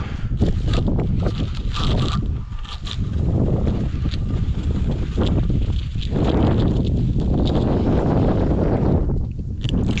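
Heavy wind buffets the microphone in loud, rumbling gusts throughout, with occasional rustling underneath, outdoors while foundation footings are being marked out.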